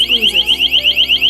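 A WiFi water leak detector sounds its alarm, a loud, piercing electronic tone that warbles steadily up and down in a fast, even cycle, close by and continuous throughout, with no talking over it.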